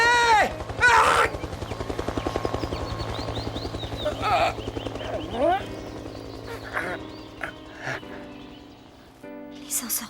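A helicopter drones overhead during a search in a dramatic scene, a low steady rumble running beneath excited voices and other background sounds.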